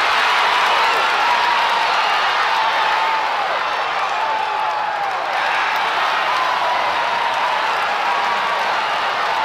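An opening-day stadium crowd in the Cars racing video game: a steady, dense wash of cheering and clapping from a large audience, loud and unbroken, with occasional whistles rising above the roar.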